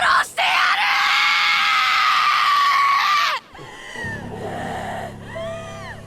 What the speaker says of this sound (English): That blood-curdling scream etches the image of a feral animal who's just lost it.